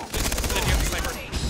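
Gunfire in the shooter game Far Cry 3 during a co-op match, a rapid burst of loud, sharp shots lasting about a second and a half, with a voice faintly underneath.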